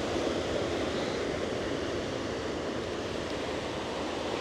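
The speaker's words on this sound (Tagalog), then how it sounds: "Laki ng alon, no?" Big ocean waves surge and crash against a rocky shore of large boulders on North Batan, a steady, loud, continuous roar of surf with no talking.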